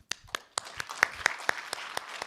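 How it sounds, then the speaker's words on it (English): Scattered, sparse handclaps from a small audience at a Handmade Seattle 2024 programming conference, a few distinct claps in an irregular rhythm rather than a full ovation. "So a round of applause to the creator of ARC."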